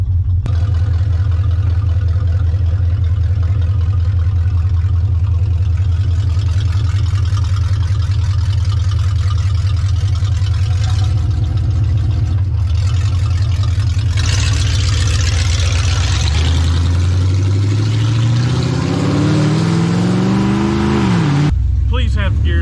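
A 1969 Plymouth with a freshly swapped engine revs loud and close, climbing in pitch as it pulls through the gears, then drops away sharply near the end, with people talking over the engine noise.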